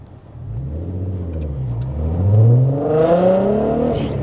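A manual 3.6L AWD MK6 GTI with a new exhaust pulls away hard from a green light, its engine note rising steadily through the revs and swelling louder, heard from inside the car with no talking.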